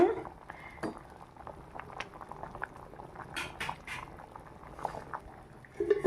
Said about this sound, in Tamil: கொதிக்குது சாம்பார் கோஸ் போட்டு தான் சாம்பார் வைக்கிறேன்